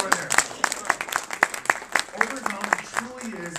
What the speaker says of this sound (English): give a big round of applause to David Summer right over there